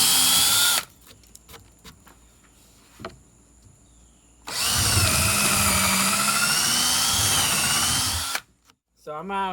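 A power drill whirs in two bursts, a short one at the start and a longer high-pitched run later, with quiet handling sounds between.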